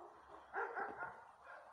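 Small dog barking outdoors on a walk, a short burst of several quick, fairly faint yaps in the middle.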